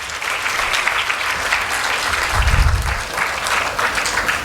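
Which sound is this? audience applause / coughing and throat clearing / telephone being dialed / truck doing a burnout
audience applause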